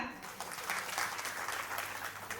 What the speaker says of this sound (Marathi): श्रीकांत प्रभुकर सर यांच्यासाठी एकदा जोरदार टाळ्या